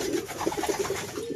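Soft, low pigeon cooing, a few gentle throaty calls close by over a quiet background.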